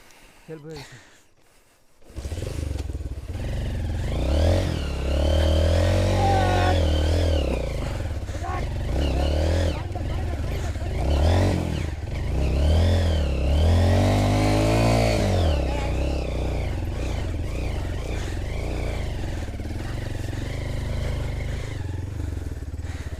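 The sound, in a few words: motorcycle engine revving on a mountain road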